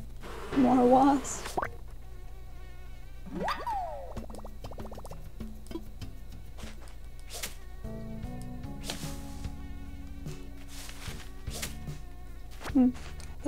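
Buzzing of an insect in the video game Animal Crossing, as when catching bugs, a thin insect-like drone under game music and scattered sound effects, with a person talking at moments.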